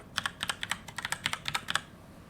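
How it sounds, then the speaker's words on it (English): Rapid bursts of keystrokes on a computer keyboard, about a dozen quick clicks in an uneven rhythm, close and clear over a low background hum, with no voices. "I could type"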